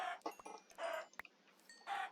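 Chickens cluck in the video game Minecraft, giving several short, close, clear bursts of clucking spaced unevenly.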